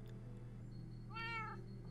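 A single short cat meow, clear and tonal, rising over a steady low background hum in a Minecraft survival game, with no talk.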